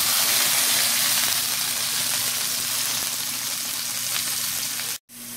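A stir fry sizzles loudly and steadily in a hot pan with oyster and hoisin sauce, a dense hissing crackle that stays constant, drops out abruptly near the end, then resumes.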